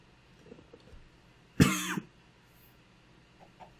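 A single loud, harsh cough in a Minecraft game, standing out sharply against quiet background sounds.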